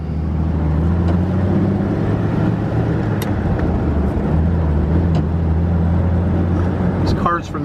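Engine of a 1949 Plymouth Special Deluxe Convertible on the road with the top up, a steady low drone and road hum filling the cabin, with someone talking over it and a brief mechanical tick near the end.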